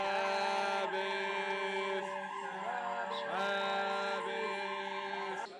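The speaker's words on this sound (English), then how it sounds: "A siren goes off, notifying the start of the Sabbath" A siren in Israel marks the start of the Sabbath on a Friday before sundown. It is a steady, loud, harmonic wail held for the whole stretch, with a few slight bends in pitch and no voices.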